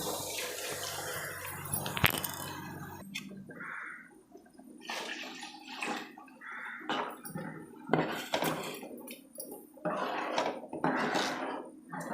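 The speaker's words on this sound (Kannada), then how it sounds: "ಈಗ ನಾನು ನೀರು ಸಹ ಸೇರಿಸ್ತೀನಿ" Water splashes and pours into a cooking pot of masala and lentils for egg curry in several bursts, with clanks of metal utensils between pours; no one speaks.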